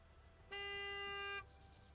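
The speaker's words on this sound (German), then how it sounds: "Wer hupt denn da?" A car horn honks in the video game Gas Station Simulator, one steady, loud blast lasting just under a second, clear over a quiet background hum.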